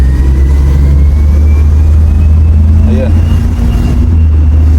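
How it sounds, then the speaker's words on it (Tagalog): A car engine with a noisy, whining turbo drones loudly and steadily while driving, a low rumble with a faint rising whistle layered on top; someone speaks briefly over it. "Pag hindi pa masyadong yung accelerator, yung turbo umiingay."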